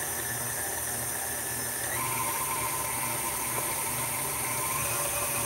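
A stand mixer with a paddle attachment churns cream cheese filling at medium speed, giving a steady, continuous motor whir with a slight shift in pitch partway through and no voices.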